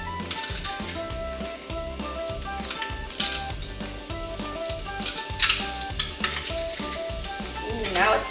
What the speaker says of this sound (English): Ooh, now it's sizzling.